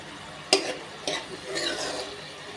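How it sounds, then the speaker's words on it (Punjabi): Garlic and onion stirred and frying in a pan for a bottle gourd curry: a soft, steady sizzle with a few sharp scrapes and clinks of the stirring utensil, moderately close. "ਲਗਾਤਾਰ ਹਿਲਾਉਂਦੇ ਹੋਏ ਆਪਾਂ ਜੀ ਲਸਣ ਪਿਆਜ਼ ਨੂੰ ਪਕਾ ਲਾਂਗੇ"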